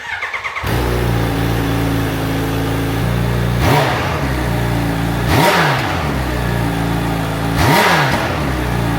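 Motorcycle engine fitted with its factory exhaust starting up, idling with a steady low throb, then revved hard three times, each rev swelling loudly and dropping back to idle, close and alone.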